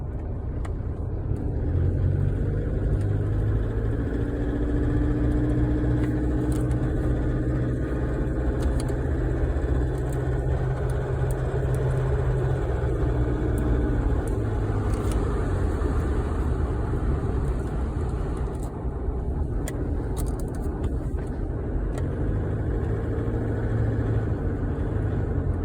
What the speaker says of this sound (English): these Hiluxes, they are noisy, but what I mean is the normal noises, and once it gets hot, this one's particularly noisy when it's cold.